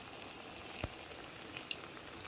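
Eggplant cutlets frying two at a time in oil, a soft steady sizzle with a few faint clicks from the pan.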